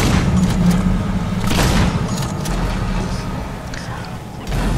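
Shotgun blast in the Alien: Isolation video game, a booming low thud near the start followed by a second heavy report, set against dense rumbling game ambience.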